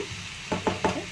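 Dried prawns and flat broad beans fry in oil in a pan, a soft steady sizzle broken by three quick close scraping stirs near the end, no talking.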